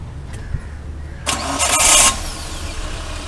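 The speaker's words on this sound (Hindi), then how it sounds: "हमारी गाड़ी जंप स्टार्ट हो चुकी है" A car engine that had its battery terminals disconnected is jump-started with a multi-function jump starter: a short cranking burst followed by the engine catching and settling into a steady idle, close and fairly loud.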